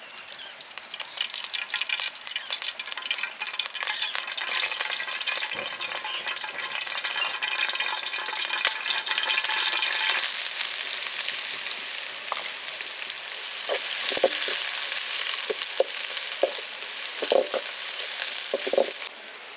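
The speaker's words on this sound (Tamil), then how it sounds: "வெங்காயம் பார்த்திங்கன்னா நல்லா பொன் வறுவலாக முருவலாக வந்து வதங்கிடுச்சு" Onions fry in oil in a hot kadai with a loud, continuous hiss and crackle, close up, joined later by scattered light taps and scrapes.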